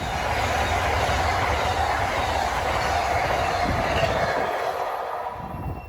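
Amtrak's Silver Meteor, train 97 bound from New York to Miami, roars past on the Northeast Corridor at Linden, New Jersey, a loud, steady rush of wheels and rail noise close by that fades slightly at the end.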